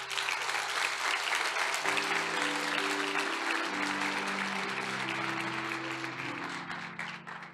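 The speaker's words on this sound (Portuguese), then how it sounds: "Por que você não aplaudiu Jesus ainda?" An audience at a worship conference applauds steadily and loudly, a dense wash of clapping from a large crowd with a sustained music tone underneath, continuing without a break and tapering slightly at the end.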